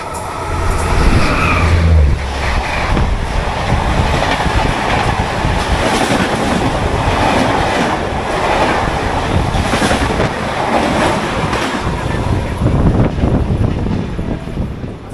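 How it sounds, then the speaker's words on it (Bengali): The 12042 New Jalpaiguri–Howrah Shatabdi Express passes at high speed, a loud close rush of rolling coaches with rapid rhythmic clickety-clack of wheels over rail joints, a heavy low rumble under it, and no talking. "সামনে থেকে ভীষণ গতির সঙ্গে এগিয়ে আসছে 12042 নিউ জলপাইগুড়ি হাওড়া শতাব্দী এক্সপ্রেস।"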